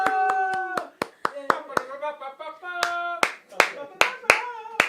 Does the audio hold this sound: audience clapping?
yes